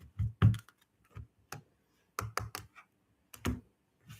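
Tarot cards being shuffled by hand, a quiet series of crisp clicking, riffling taps in short clusters separated by silent gaps, close and alone without talk.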